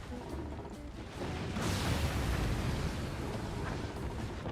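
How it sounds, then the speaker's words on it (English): Cannon fire and secondary explosions rumble inside a fort in the strategy game Forts, with a deep, sustained roar that swells sharply midway and lingers at a steady loud level. "we do have multiple secondary explosions inside"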